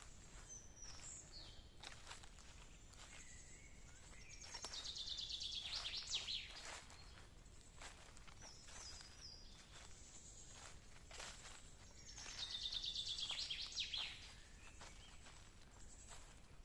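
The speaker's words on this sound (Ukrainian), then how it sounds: "Але ж пташечки заливаються." Bursts of high, twittering birdsong in a forest come and go over a steady outdoor hiss, swelling twice into busier chirping passages.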